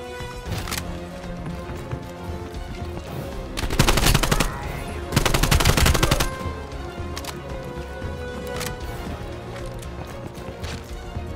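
Gunfire in the video game Black Ops Cold War, scattered single shots over a busy game background with two louder dense bursts of rapid fire near the middle.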